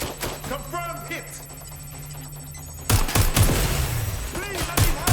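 Incoming gunfire in the video game Watch Dogs Legion: bursts of shots crack out in the second half over game sounds, after a stretch of quieter ambience with speech.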